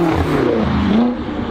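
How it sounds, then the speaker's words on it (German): A BMW M5 F10, a 700 hp car, revs its engine up close, giving a loud, steady roar with rising and falling tones over about a second and a half. "Das ist der BMW M5, mit dem wir uns heute ein bisschen amüsieren werden."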